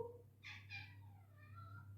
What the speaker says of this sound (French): Ah, mon chat.